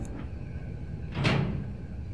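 Door opening in the Silent Hill 2 horror game: a low rumbling ambience, then one brief scraping creak of the door swinging open midway, fairly quiet, with no talk.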